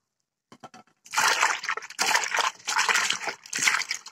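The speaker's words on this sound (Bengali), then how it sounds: "এখন আমি ঠান্ডা জল দিয়ে কয়েকবার এই চাউমিনটাকে ধুয়ে নিব।" Cold water sloshes and splashes as boiled chow mein noodles are rinsed in a bowl, with several bursts of pouring and swishing close by, separated by short pauses.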